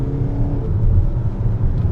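A Hyundai Palisade Calligraphy SUV with a 4-cylinder turbo diesel pulls hard under acceleration, its low steady engine rumble and drone filling two seconds at close range with no talking.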